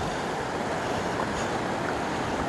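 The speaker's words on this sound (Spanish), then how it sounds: "Las quebradillas, las quebradas y los ríos pues llevan bastante agua." A river in Jalapa, Guatemala running high with lots of water after heavy rain, heard as a steady, dense broadband rush that stays constant throughout with no speech.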